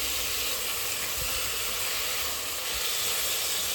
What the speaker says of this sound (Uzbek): Buni birpas qovuramiz